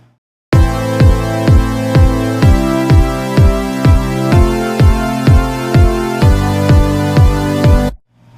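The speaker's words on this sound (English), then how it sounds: "imported a kick drum from a sample pack here that's just playing quarter notes" A punchy electronic kick drum thumps steadily on every beat, about two hits per second, loud and dry with no other sounds.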